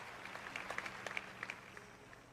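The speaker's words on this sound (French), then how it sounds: "Vous applaudissez faiblement" A sermon audience claps weakly, scattered individual claps rising and fading over a quiet hall, faint and distant with no voices over it.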